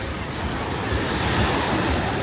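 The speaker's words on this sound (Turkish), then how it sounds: "Bayağı esiyor. Dalgalı burada deniz." Strong wind buffets the microphone on a boat tour at Ölüdeniz, Fethiye, while waves surge and break nearby, a steady, loud roar of sea and gusts with no voices.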